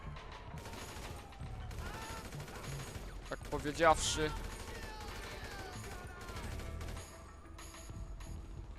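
Gunfire in GTA 5 Online: scattered shots and a rapid burst of firing mixed with mechanical game noises, while a player talks over the action.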